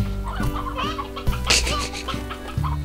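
Hens clucking in the video game Slime Rancher, a busy run of short repeated clucks over steady game music, fairly close and clear.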